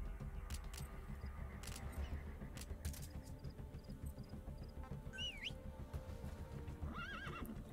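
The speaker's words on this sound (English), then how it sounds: "How do I call my horse?" Horse neighing in Metal Gear Solid V: The Phantom Pain over a rumbling background, with a short whinny and a longer wavering neigh near the end, plus scattered clicks and hoof sounds.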